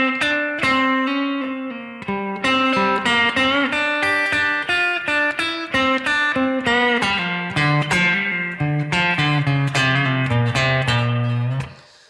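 A blues guitar plays a long lick slowly in the first-position minor pentatonic scale, with sustained, bending notes ringing one into the next, loud and unaccompanied.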